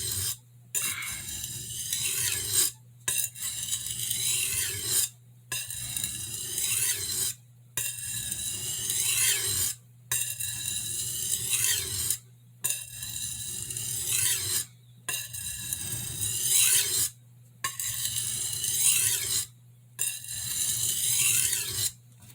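A Santoku knife's back bevel scraping across a whetstone in steady rasping strokes, each pass about two seconds long and split by short pauses, close and fairly loud over a low constant hum.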